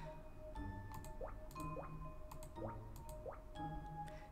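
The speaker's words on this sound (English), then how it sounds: "I hope you're enjoying the water, little plant." Water drips steadily from watering a plant on a shelf in a pet shop at night, soft squishy drops falling in a loose repeating pattern against a quiet background.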